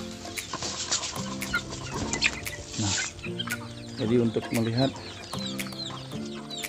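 Ayam Ketawa chickens clucking while being fed, several close birds giving repeated clucks and short rising calls, with someone speaking briefly over them.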